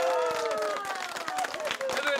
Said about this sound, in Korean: 팽나무팀 박수!